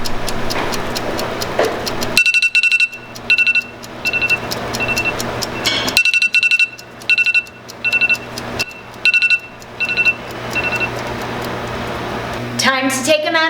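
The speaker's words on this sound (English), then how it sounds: "Now we wait for the beep." Kitchen oven timer set for baked goods emits bursts of short, bright electronic beeps in a repeating pattern, separated by brief pauses over a quiet room hum, ending with a quick rising chime.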